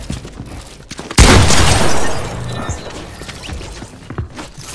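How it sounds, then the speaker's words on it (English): Gunfire from an AR assault rifle in a video game: a sudden loud burst of rapid shots that holds for about a second, then tails off into quieter game noise. "I'm just getting sprayed with an AR."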